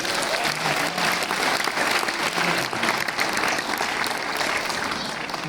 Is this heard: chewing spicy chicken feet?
no